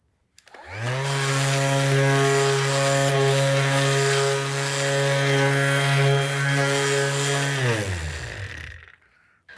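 An electric sander fitted with a large sanding blade starts up and runs as a steady, loud, close buzzing drone for several seconds, then winds down and stops, with no talking.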